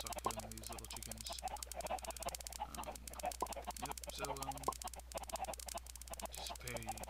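A crowd of Minecraft chickens in a video-game chicken farm and grinder cluck in short bursts over constant fast clicking footsteps, loud and close throughout.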